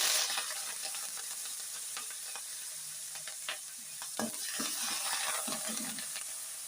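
Spices, including cumin powder, sizzle steadily in a hot pan with scattered scraping stir strokes and small crackles, close and fairly quiet throughout.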